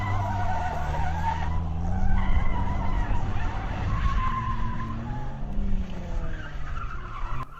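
A Ford Fiesta rally car skids on gravel at a rally test, with a continuous loud scrabble of tyres and a rising, falling engine note held close throughout.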